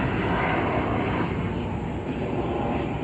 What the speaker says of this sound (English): Oh wow, and it's a jet.